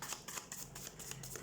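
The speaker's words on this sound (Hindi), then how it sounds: "Let's shuffle the cards." Tarot cards being shuffled by hand, a soft, quick papery riffle repeating in short bursts, faint and close.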